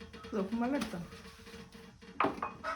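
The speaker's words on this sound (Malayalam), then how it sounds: "ഇനി ഈ ഭക്ഷണം കഴിച്ച പാത്രം കഴുകാൻ പോവാണ്" Used plates and dishes are washed in a kitchen after a meal, with soft clinks of crockery and cutlery, a sharper clatter near the end, and a person talking over it, all at low volume.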